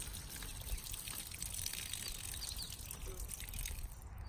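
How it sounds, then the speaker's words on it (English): Water rushes and pours through a rocker box used for gold prospecting, a continuous splashing trickle close by, with nobody talking over it. "you get some water flowing there, but if it wasn't losing suction there, you see how much water comes out"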